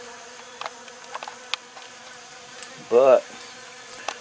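Honeybees buzzing at a nuc hive with a screened bottom board, a steady close drone with brief individual bees passing near, and one short spoken word.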